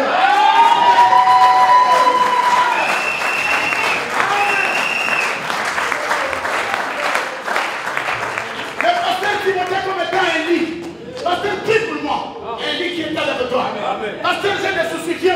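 A church congregation applauds and cheers for the Lord, loud sustained clapping and crowd noise running throughout, with voices shouting and singing mixed in over the whole span.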